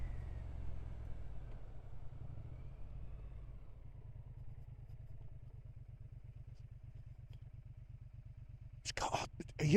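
A 2025 Triumph Speed Twin 1200 motorcycle engine rumbles in a low, steady, rapid pulsing beat while riding, fading slightly before a voice speaks over it near the end.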